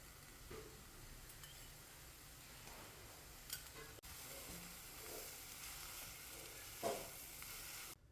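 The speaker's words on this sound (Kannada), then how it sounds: "ಆಮೇಲೆ ಸ್ವಲ್ಪ ಎಣ್ಣೆ ಹಾಕ್ಕೊಂಡು ಉತ್ಕೊಳ್ತೀನಿ" Garlic frying in oil in a pan for a sprouts sambar, a faint, steady sizzle with occasional soft clicks and stirring taps, close by with no talking.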